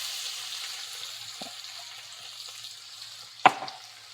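Crushed garlic fries in hot oil with cumin and asafoetida, a faint steady sizzle with a soft clink and one sharp louder crackle near the end.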